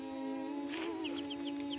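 Small chicks at a sacred hilltop grave site give soft clucks and a quick series of thin, high peeps, close and fairly quiet over a steady background hum, with no talking.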